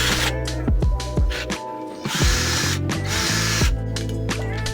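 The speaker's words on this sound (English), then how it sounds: "run a pilot drill through both sides" A pilot drill bores through both sides of a steel pipe for a car roll cage, its motor whining and bit chattering, with brief speed changes and grinding bursts, close and loud.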